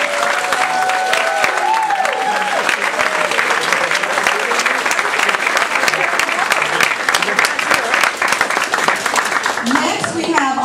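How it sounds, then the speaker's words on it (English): Sustained audience applause at a Toastmasters district conference honoring past district governors, dense steady clapping from a large room with some cheering and voices mixed in, continuing at a constant level throughout. "will you please stand as we give you a round of applause?"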